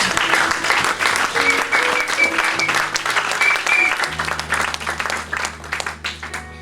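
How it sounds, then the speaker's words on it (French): A church congregation applauds the Lord with sustained, steady clapping and some cheering, mixed with organ or keyboard chords throughout. "On peut acclamer le Seigneur."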